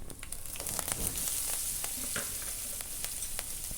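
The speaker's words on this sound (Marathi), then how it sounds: "जिरं, तेल टाकून मोहरी तळायला लागलेली आहे." Mustard seeds and cumin fry in hot oil for a tempering, with a bright steady sizzle peppered by quick, irregular pops and crackles of bursting seeds.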